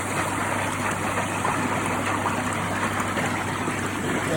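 Water runs steadily while a pond filter is cleaned, a constant gushing rush at even loudness throughout with no break.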